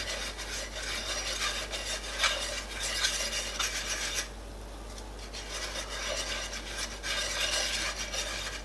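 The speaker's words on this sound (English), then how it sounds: "I'm gonna add 5 tablespoons of all-purpose flour, little at a time, just whisk it in" A whisk scrapes and rubs briskly around a pan as all-purpose flour goes into a Swedish meatball cream sauce, a close, continuous rasping with one short pause and no talking.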